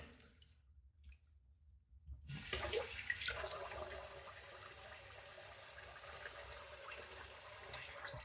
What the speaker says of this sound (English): now we're going to rinse off with warm water first